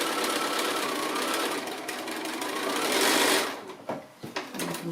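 A sewing machine stitches the last section of the surround onto a quilt block, running steadily and close for about three seconds, then stopping and restarting in short bursts.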